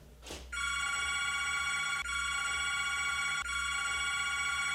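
An old-style telephone bell rings loudly and continuously in a barbershop after a brief rustle, with a slight break in the trill twice.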